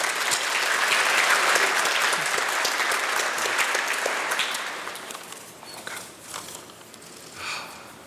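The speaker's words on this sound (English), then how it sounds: "if we could give a round of applause to him" Audience applause at a school graduation ceremony for the organiser of a mocktail party, a dense burst of clapping that fades away over several seconds into scattered claps.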